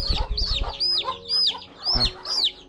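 A mother hen clucks and squawks close by in a quick series of sharp, agitated calls, with no talking.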